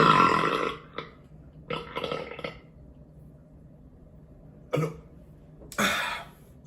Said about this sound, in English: That was a righteous burp right there.